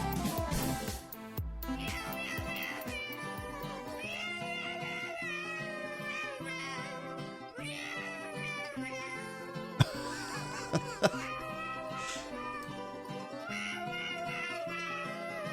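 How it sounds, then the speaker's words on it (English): A cat character sings over busy, loud game music in the video game Captain Cat on Nintendo Switch, with melodic meow-like vocal lines running continuously throughout. "I guess it's supposed to be Captain Cat singing there."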